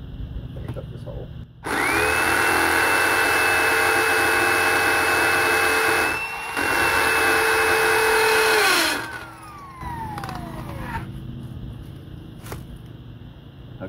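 A power drill bores a hole in a workshop to mount a hose hanger. A loud, steady high whine runs for about seven seconds with a brief dip midway, then winds down in falling pitch, with quieter shop noise before and after.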